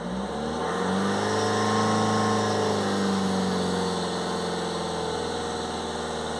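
A diesel car engine, with a diesel particulate filter, is held steady at around 2,500 RPM, giving a continuous, fairly loud mid-pitched drone with a slight rise and settle in pitch and no talking over it.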